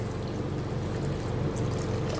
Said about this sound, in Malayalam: നമ്മൾ അല്പം വെള്ളം ചേർക്കുക.